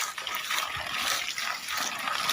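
Water gushes hard and continuously from the end of a roughly 140–150 metre hose fed by a Summers 1100 W pump, a bright splashing rush heard close up.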